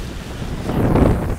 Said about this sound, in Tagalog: Hangin kasi.